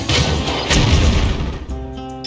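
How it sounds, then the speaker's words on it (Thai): In the card game Hearthstone, a cannon fires with a loud crashing boom and a heavy impact, then the sound gives way to a brief ringing musical tone. "เหมือนเดิมยิงปืนใหญ่"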